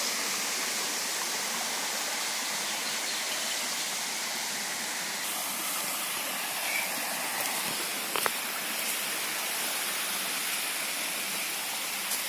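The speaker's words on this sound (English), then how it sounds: "Ivancha waterfall." Ivancha waterfall near Targovishte, a large volume of water falling down a sheer drop of about 100 meters, heard as a steady hissing rush with no voices.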